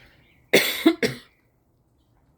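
Three quick coughs in a row, close and fairly loud, followed by silence.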